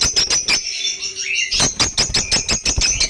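Several African lovebirds in a breeding setup chirp in rapid, bright bursts, with a brief pause and a rising whistle before the busy chirping resumes close by.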